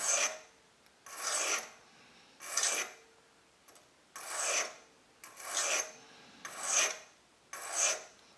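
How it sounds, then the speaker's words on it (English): An oiled sharpening stone smooths a gun extractor in seven steady, evenly spaced rasping strokes, close and fairly quiet, with short pauses between them and no talk. "This is just kind of smoothing everything over to help reduce friction."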